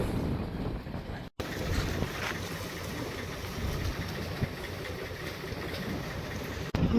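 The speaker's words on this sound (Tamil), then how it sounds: "இந்த ரோந்து படகு பார்த்தீங்கன்னா இப்போ வந்து கொண்டிருக்குது கரைக்கு" A navy patrol boat approaching the shore at Nainativu in stormy weather, its engine rumble buried in constant loud wind buffeting and surf, with two brief dropouts in the sound.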